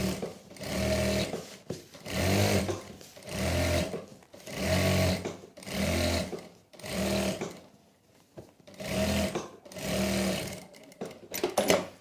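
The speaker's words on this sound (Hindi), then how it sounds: "यहाँ पर एक सिलाई लगाएंगे।" Sewing machine stitching a salwar, running in steady rhythmic bursts of about a second each with brief pauses between, close and clear with no talking.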